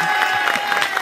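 A studio audience on a French cooking show applauds chef Philippe with a dense, steady burst of clapping that fills the whole short moment.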